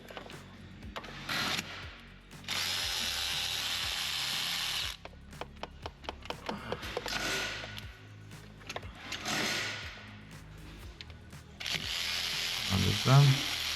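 A ratchet wrench turns a 13 mm starter motor bolt on a 2014 1.2L Ford Fiesta, with repeated bursts of ratcheting clicks interspersed with sharp taps and handling noise, fairly quiet throughout.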